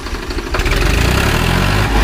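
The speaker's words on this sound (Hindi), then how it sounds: "बहुत दमदार आवाज़ है ट्रैक्टर की" A Powertrac 439 tractor engine chugs close by, then its rumble swells and thickens as it revs up, staying loud and continuous to the end.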